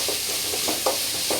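Onions sauté in a pan with salt, a continuous hissing fry broken by a few soft scraping stirs, close and steady with no voices.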